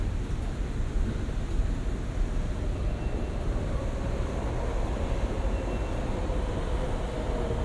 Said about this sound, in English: There's another train pulling in at the platform below